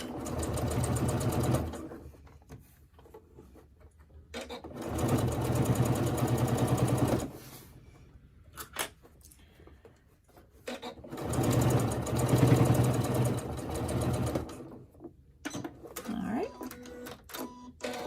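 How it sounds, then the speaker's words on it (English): Sewing machine stitching leather for a crossbody bag, running in steady whirring bursts of a few seconds each with quiet pauses between, close and clear, ending with shorter stop-start runs. "sewing on leather can be quite easy if you have the right tools"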